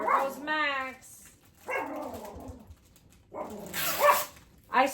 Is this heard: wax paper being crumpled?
no